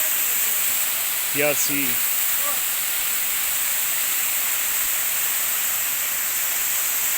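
Bamni waterfall in Purulia roars as a steady, loud wash of rushing water that barely changes from start to end. A voice speaks briefly near the start, over the constant falling-water noise.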